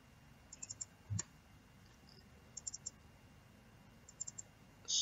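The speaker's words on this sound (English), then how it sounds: "I'm going to set the poly lasso again and then double click inside of it" Computer mouse clicks during 3D game-art texturing work, heard as several quick paired click bursts spaced through the stretch, faint and close, with no talking.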